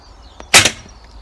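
An Iconix air rifle fires a single sharp, loud shot with a short decaying tail, with a faint click just before it and quiet surroundings after.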